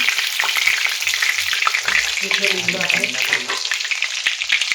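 Garlic and curry leaves sizzle loudly in hot oil for an eggplant-potato bharta, a steady dense crackle throughout with occasional clinks and scraping stirs, no voices.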